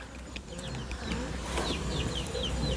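Young chickens in a coop cluck and chirp in short, scattered calls over steady farmyard noise at moderate distance.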